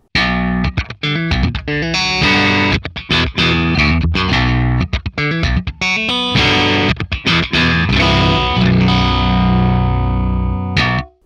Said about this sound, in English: Now I've used the transpose device to go down 5 semitones.